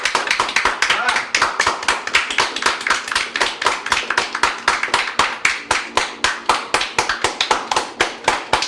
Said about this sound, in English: Guys, round of applause. Everybody clap.